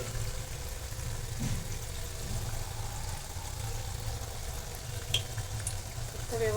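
Onion bhaji fritters frying in hot oil in a home kitchen, a soft continuous sizzle and bubbling at low volume with faint occasional clinks, no voices.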